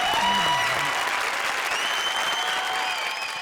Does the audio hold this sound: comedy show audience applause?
yes